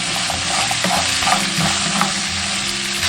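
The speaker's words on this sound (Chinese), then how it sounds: "下入几颗冰糖，炒出糖色。" Rock sugar caramelizes in hot oil in a wok, with a loud, continuous sizzle and bubbling crackle. A spatula scrapes and stirs steadily throughout, and no one speaks.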